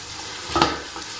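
Tomatoes cooking in a pot for chana pulao, a soft sizzle with one brief stir or clatter in the middle, close and short.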